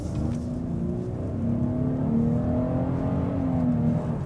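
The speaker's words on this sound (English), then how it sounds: "So I'm going to go ahead and hit the gas." 2023 GMC Acadia Denali accelerating on a test drive, heard from inside as a loud, steady engine drone whose pitch climbs smoothly with a brief dip as it shifts, no talk.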